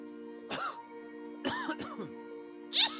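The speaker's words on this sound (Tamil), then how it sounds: "அடுத்த அஞ்சாவது நிமிஷம் இரும ஆரம்பிச்சான்" Three short, raspy coughs break out one after another over a steady humming tone.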